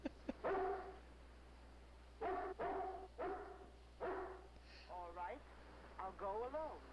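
A seeing-eye dog barks in short bursts at a distance, several sharp barks clustered together, then whines and yelps toward the end. The sound is faint and thin, with a low hum underneath.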